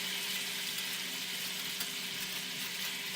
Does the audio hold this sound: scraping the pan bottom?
yes